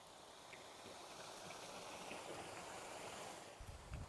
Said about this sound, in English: You know, how some water running like that.